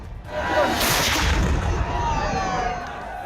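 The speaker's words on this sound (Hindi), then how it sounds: "पुलिसकर्मी दौड़ दौड़ कर तोप में गोला भर रहे थे और आग से तोप को फायर कर रहे थे।" A cannon booms once in a 21-gun salute, fired by police at the Shrinath temple complex at midnight as part of an old tradition. A sharp blast is followed by a lingering rumble and crowd noise.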